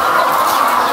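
A flock of laying hens clucks, a dense, continuous and loud murmur of many birds close by, with no single call standing out.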